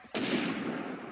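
Gunfire in the Line of Sight first-person shooter game: one sustained loud, close burst after a brief quiet moment, followed by another shot starting at the very end.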